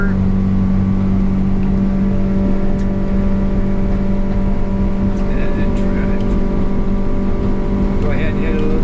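A 21-foot Searanger boat's Yamaha F150 outboard runs at wide-open throttle, a loud, steady, close engine drone that holds unbroken from start to finish with rushing wind and water noise underneath.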